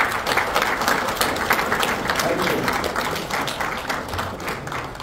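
Audience at the first meeting of a Kyrgyz alaman ulak federation applauds steadily, dense continuous clapping filling the whole stretch at even loudness.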